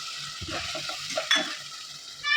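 Cornflour water pours into a sizzling pan of soy and chilli sauce for non-fried manchurian, a steady close frying hiss with soft stirring scrapes and a brighter splash of sizzle near the end.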